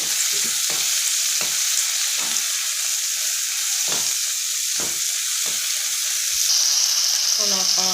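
Eggplant and other vegetables for baingan bharta sizzle steadily in a hot pan, broken by repeated scraping stirs at irregular intervals, loud and close with no talking over it.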